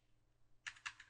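Keys clatter on a computer keyboard as a terminal command is typed, two sharp bursts of close clicking followed by a softer tap, set against a quiet room.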